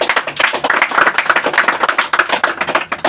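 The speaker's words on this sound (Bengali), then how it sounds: "হাততালি দাও সবাই" A group of students at a coaching class claps together in steady, fairly loud applause for a classmate who came first on a mock test, with no talking over it.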